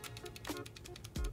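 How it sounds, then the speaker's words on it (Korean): The loose free-spinning scroll wheel of a Logitech G502 mouse rattles as it is shaken, a quick run of soft, close clicking taps in steady rhythm with no talking. "이게 바닥에 대고 이렇게 흔들었을 때도 여기에 덜렁덜렁 거리는 소리가 들립니다"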